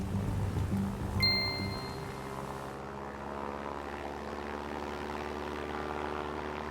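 Steady propeller aircraft drone of the Lucky Liz plane, continuous and fairly loud with a brief louder swell near the start, low engine hum sustained throughout with no talk.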